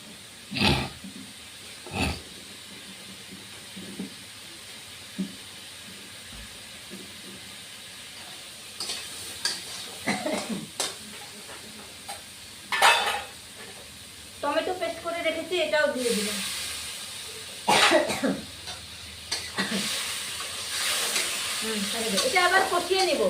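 Fried potatoes dropped into a mustard fish curry of small chara pona fish, sizzling steadily in the pan with stirring scrapes that swell and fade, close and fairly loud, with occasional talk over the cooking.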